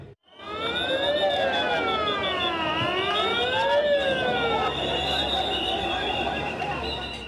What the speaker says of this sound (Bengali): সাইরেন বাজিয়ে লাশবাহী অ্যাম্বুলেন্স জরুরি বিভাগে ঢোকার সঙ্গে সঙ্গে